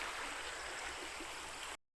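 River water flows steadily in a broadband rush, close and even, right up until the sound cuts off abruptly near the end.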